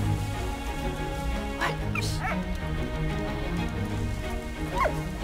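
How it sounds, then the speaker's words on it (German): A dog in the video game Valiant Hearts lets out a few sharp barks and whimpering yips over a steady game soundtrack with a rain-like patter. "toller Hund"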